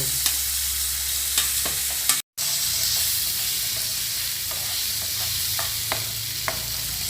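Tomatoes and potatoes frying in a pan with a continuous close sizzle, punctuated by sharp scraping stir clicks of a spatula and a brief dropout partway through.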